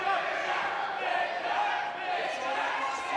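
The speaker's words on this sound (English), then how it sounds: "The crowd right behind Jesse Arnett, no surprise." A crowd at a Hard Knocks Fighting Championship MMA event roars and cheers in a continuous dense wash of noise, with a commentator talking over it.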